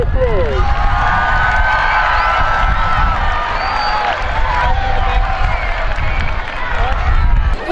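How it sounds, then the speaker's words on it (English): A crowd of students claps and cheers outdoors after a school photo, a dense, steady wash of applause with scattered whoops and voices mixed in. "Give yourselves a huge round of applause."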